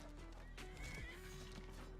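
Horse neighing in a modded Skyrim game, a single whinny rising over steady game ambience and faint hoof sounds, heard alone without talk.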